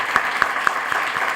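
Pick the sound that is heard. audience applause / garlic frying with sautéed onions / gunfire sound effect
audience applause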